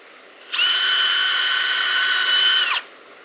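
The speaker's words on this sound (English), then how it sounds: "About 2/3 to 3/4 the way down, you want to drill 2 holes." A power drill bores holes in cork, whirring steadily for about two seconds, loud and close, with a high sustained whine that cuts off abruptly.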